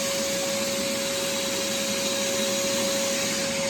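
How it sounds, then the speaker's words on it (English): A vacuum pump runs with a steady, loud whine and hum, pulling maple syrup through a filter, unbroken throughout with no talk. "without that vacuum, it would take forever for that sap to go through there"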